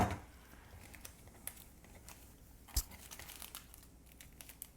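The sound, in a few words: crinkling plastic MRE coffee pouch being opened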